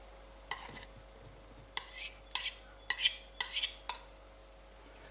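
Ingredients for a Milanese panettone, including lemon, vanilla pod seeds, cut mixed peel and sultanas, are stirred in a bowl, giving six short bursts of scraping and clinking with quiet pauses between them.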